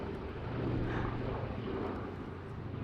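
A Boeing B-17 bomber passes at the Duxford airshow, its propeller engines a steady, fairly distant broad drone holding level throughout.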